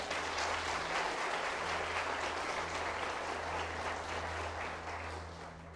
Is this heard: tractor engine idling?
no